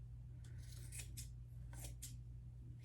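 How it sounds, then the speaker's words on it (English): Scissors snip through decorative trim for a candy-cane-form Valentine heart, making a few crisp cuts close to the listener over a steady low hum, with no talking. "let me just cut that trim a little"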